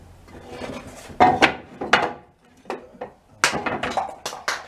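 A hand saw cuts through wood taken from an old coffee table, uneven rasping strokes in short bursts with brief pauses between them, close and fairly loud.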